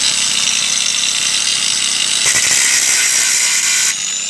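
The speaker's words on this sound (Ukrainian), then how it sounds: "Болгаріус заработав." An angle grinder powered by a Zipper 1100 generator spins loudly and close by, a harsh, high continuous whine with a slight shift in pitch partway through and no talking.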